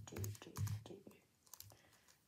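Typing on a brand new computer keyboard: a few quick clusters of soft key clicks, close and quiet, then sparse taps with pauses and no talk.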